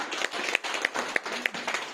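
An audience claps for a company founder at a hall gathering, a dense, even patter of many hands with a few sharper single claps standing out, sustained and fairly near.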